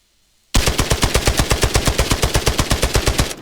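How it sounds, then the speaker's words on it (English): A SCAR-L rifle in Arena Breakout Infinite fires fully automatic after a moment of silence: a single loud, close burst of roughly thirty rapid, evenly spaced shots. "The second is to use fully automatic. It will give you more recoil and indeed more fire rate."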